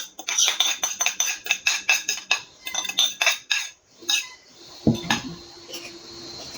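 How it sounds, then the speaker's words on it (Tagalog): A utensil scrapes and clinks rapidly against a bowl while banana is mixed into homemade banana cake batter, giving a fast rhythmic series of close, sharp taps that slows and ends with a single louder knock. "Ihalo natin yung saging sa pag-mix"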